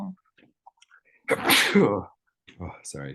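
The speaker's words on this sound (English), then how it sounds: "Bless you." A single sharp, loud sneeze from a person on a phone call, followed moments later by brief spoken apologies.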